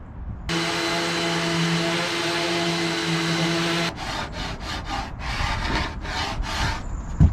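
A Bahco carbide scraper works over a wooden boat, first a steady droning pass, then a run of about eight rhythmic scraping strokes, close and fairly loud, with no talking.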